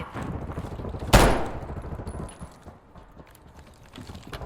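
A single sharp gunshot cracks out in a Black Ops 6 Warzone match, loud against a low rumbling game ambience with faint clicks and distant scattered noises around it.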